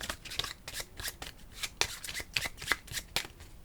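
Game cards riffle-shuffled by hand during a Cartographers board game session, a series of crisp, close fluttering bursts repeating in quick succession with no talk.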